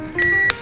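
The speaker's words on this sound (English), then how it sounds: "Sliding it back in place, you'll hear the beep and it is now functional again" Short electronic beep from an infrared thermometer as its AA battery door slides shut, a brief tone followed by a quick second chirp, close and clear with no talk.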